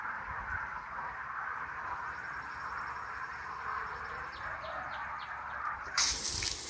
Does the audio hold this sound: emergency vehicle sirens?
no